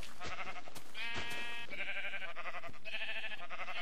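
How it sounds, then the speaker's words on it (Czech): Several sheep in the video game Minecraft bleat in quick succession, a string of close, clear, nasal cries that overlap one another with little in between. "Černé ovce nechceme."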